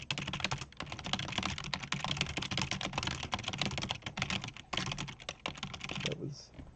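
Rapid, continuous computer keyboard typing during a typing game, dense clattering keystrokes close up with only brief pauses, tapering off near the end.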